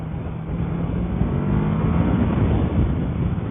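Kawasaki Versys 650 motorcycle engine pulling hard under acceleration while riding, a steady loud drone that builds slightly with low rumbling harmonics and wind noise, no talk.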